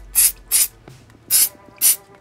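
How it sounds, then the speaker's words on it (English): Silicone lubricant spray misted onto a Brother 1034D serger during a knife change: four short, close hissing bursts in steady rhythm, with a faint click between them. "I like to take my lubricant spray, this is a silicone"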